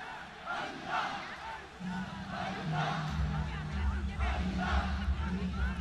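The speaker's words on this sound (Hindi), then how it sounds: "किस तरह से अल्लाह अल्लाह की पुकार है" Large crowd at the Wagah border flag ceremony on the India-Pakistan border roaring and chanting in a steady swelling din, with a deep rumbling chant rising in the second half, loud and continuous throughout.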